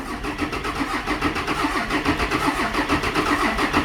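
A car engine with a weak battery churns with a rapid, steady pulsing beat, loud and close, rising slightly in intensity toward the end.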